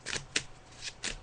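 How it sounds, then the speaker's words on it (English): Tarot cards being shuffled by hand in a few quick riffling bursts, close and crisp, with no talking over them. "So I'm just shuffling the cards now."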